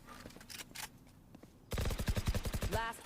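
Rapid automatic gunfire rings out in the video game Valorant, an earlier scattered burst followed by a dense, fast volley of shots. A commentator's voice is faintly audible underneath.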